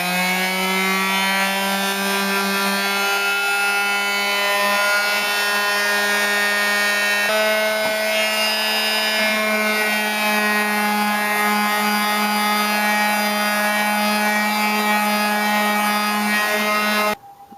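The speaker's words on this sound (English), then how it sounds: "I'm using is again the Craftsman quarter sheet sander" Craftsman quarter sheet sander finish sanding wood, a loud steady motor drone with a humming whine held almost unbroken for about seventeen seconds before cutting off abruptly, with no voices.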